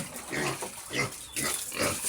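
Pigs grunt in short, repeated bursts at close range, moderately quiet, with a faint trace of water in the background.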